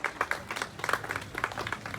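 Brief burst of clapping and applause from an audience at a Mother's Day song and music cultural program, a dense patter of hands, moderately loud and steady over two seconds with no speech.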